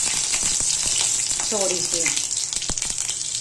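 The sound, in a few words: mustard seeds spluttering in hot oil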